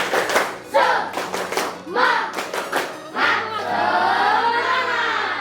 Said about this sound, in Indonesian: kita buka dulu dengan tepuk semangat